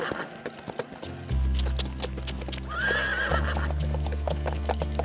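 Horse neighing, a clear loud whinny in the middle of the clip over hoof clip-clops, with a low music drone underneath.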